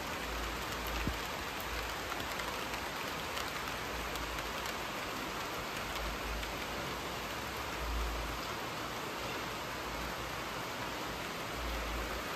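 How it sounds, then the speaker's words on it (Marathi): Rain falls steadily at night onto a paved yard, a dense, even hiss of drops at close range that continues unbroken throughout, with no one speaking. "पावसाचा आवाज तरी येत असणार आहे तुम्हाला मोबाईलमध्ये"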